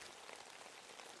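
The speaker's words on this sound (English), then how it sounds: "this rain is just starting to pour and pour" Heavy rain pours steadily as background ambience for a tabletop fantasy game session, a dense, even wash of hiss with no voices over it.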